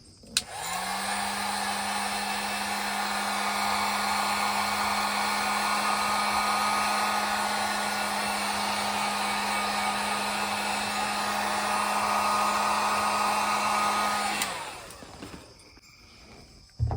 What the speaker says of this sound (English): Hook up the old heat gun.